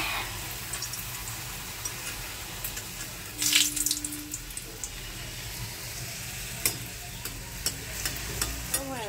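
Hot oil for frying luchi sizzles steadily close by, with a short burst of running water partway through and a few clinks and stirring scrapes afterward.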